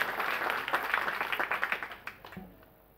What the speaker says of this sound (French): Je crois qu'ils méritent qu'on les applaudisse,